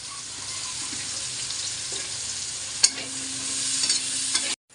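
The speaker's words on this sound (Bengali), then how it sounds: "পেঁয়াজ ভাজা হয়ে গেছে" Onions fry in hot oil, a steady, even sizzle with an occasional spoon tap against the pan, no voices, before cutting off abruptly.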